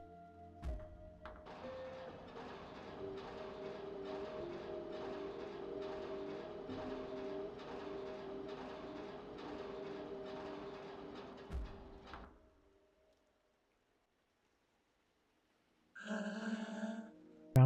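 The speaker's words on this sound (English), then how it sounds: "Tramway 1 is a very convenient way to travel between all the different regions in Zone 1" A tram in the video game OFF runs with a steady rumbling, whirring drone and a low sustained hum for about eleven seconds, then cuts off abruptly into silence before a brief synthetic chime-like tone follows.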